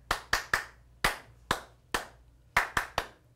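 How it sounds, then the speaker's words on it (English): Hands clap sharply in a patterned rhythm, ten crisp claps grouped in short clusters with brief pauses between them, close and clear in a quiet room. "Were you just clapping code for SOS?"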